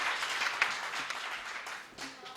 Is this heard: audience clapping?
yes